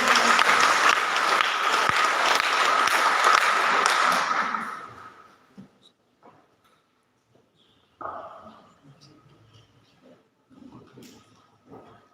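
Loud audience applause at a Christmas celebration fills the opening seconds, then fades out, leaving quiet pauses with faint shuffling and brief murmurs.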